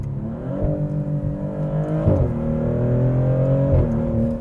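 A 2024 Maserati GranTurismo's engine revs and accelerates hard through several rising sweeps, each climb broken by a quick gear change, loud and close with no talking.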